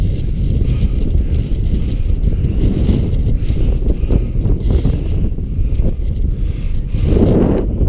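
Strong, steady wind roars across the microphone on a hilltop along the Cumbria Way, constant gusty rumbling, loud and unbroken with no other sounds standing out.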